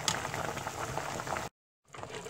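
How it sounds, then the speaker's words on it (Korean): Seaweed soup (miyeok-guk) bubbling steadily in a pot, a dense close rumble of boiling that runs continuously, cuts out briefly, then resumes. "우글우글 끓을 때"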